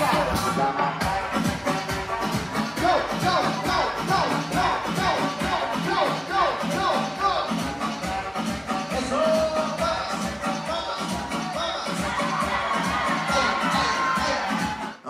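A crowd of guests at a quinceañera party applauds and cheers continuously, a dense wash of clapping and whoops at steady loudness, with voices mixed in throughout.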